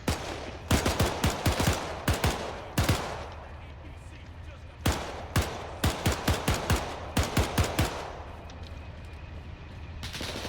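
Machine gun fire in the WWII shooter Iron Front rattles out in loud, close bursts, some fast and clustered and some spaced apart, with occasional voices in the background.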